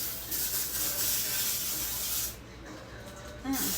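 Avocado oil cooking spray hisses steadily into a meatloaf pan for about two seconds, close and fairly loud, then stops, leaving quiet kitchen room tone.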